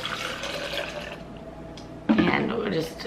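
Trader Joe's cold brew coffee concentrate poured into a cup in a kitchen, a short liquid splash and trickle that rises suddenly and runs for about a second, fairly close, following a stretch of quieter background noise.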